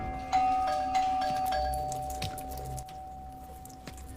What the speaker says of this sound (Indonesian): tiba-tiba saja terdengar suara bel yang terus-terusan berbunyi